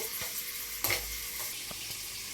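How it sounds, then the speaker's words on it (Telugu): Chopped onions fry in a pan for biryani, giving a steady close sizzle with a few soft stirring scrapes and one brief louder clatter partway through. "బ్రౌనిష్ వచ్చేంత వరకు ఫ్రై చేసుకోవాలి."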